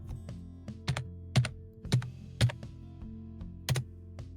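Keys on a computer keyboard struck in an uneven sequence of sharp, close clacks, some louder presses standing out among lighter taps, with quiet gaps between bursts.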